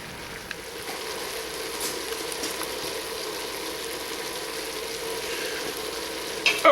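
Vegetables, onion and ham sizzle in coconut and olive oil, a steady, even frying crackle that runs throughout with occasional small pops and a brief stir near the end.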